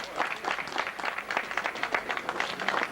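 An audience at an auction applauds in a sustained burst of many hands clapping, moderately loud and steady throughout.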